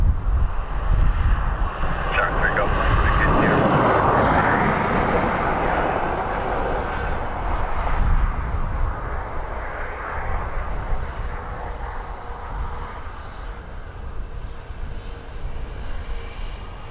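An Airbus A321neo arriving from Munich at Dublin Airport swells to a loud roar around the early seconds, then fades gradually into a fainter rumble.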